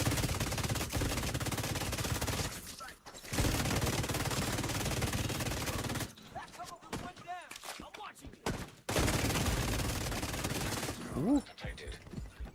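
An enemy firing a barrage of grenades in The Division 2, dense rapid bursts of blasts and gunfire rattling in long loud stretches, broken by short quieter gaps that contain scattered pops and a bright whistling tone.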